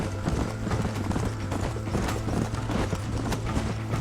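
Horse hooves clip-clop in a steady, rapid rhythm while riding in the PS3 game Red Dead Redemption, loud and close, with a low engine-like hum beneath and no speech.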